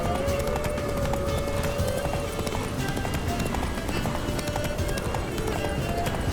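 A horse gallops in The Witcher 3 on PS5, with steady rhythmic hoofbeats at moderate volume mixed with game music and ambience.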